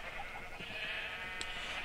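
A sheep in a video game bleats once, a wavering mid-pitched cry lasting about a second over faint ambience, with a soft click near the end.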